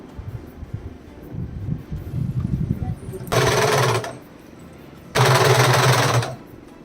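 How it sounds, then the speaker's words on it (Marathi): An electric sewing machine stitching a saree, running in two loud, steady buzzing bursts of roughly a second each, separated by a short pause, after a few seconds of softer handling and rustling of the fabric. "एक साइड आपण स्टिच करून घेतली तर दुसरी पण तशीच त्याच पद्धतीने शिलाई करून"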